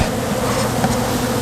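Dense, steady buzzing of many honey bees close by during a sugar-shake varroa check on a hive, a continuous hum with no talking.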